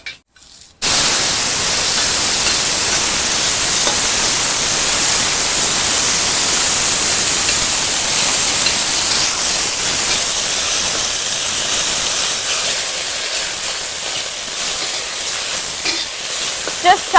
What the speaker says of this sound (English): stir fry with the oil and then add the vegetable